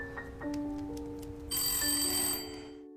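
A telephone rings in a police station, a loud electronic ringing tone that keeps going for a few seconds and then cuts off abruptly.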